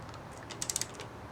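Loosening a fastener on the switchgear of a Ducati 1098S motorcycle: a quiet, brief run of four or five quick ratchet clicks, close by, over a faint background hum.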